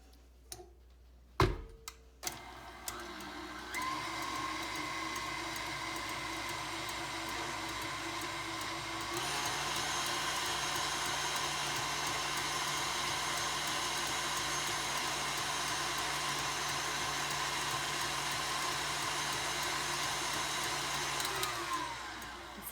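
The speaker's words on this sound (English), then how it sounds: "And now we're going to whisk this together." Cheesecake topping flavored with vanilla extract whisked in a bowl, a steady whirring electric-mixer drone that starts after a few clicks and knocks, then runs continuously and loud for most of the stretch before stopping.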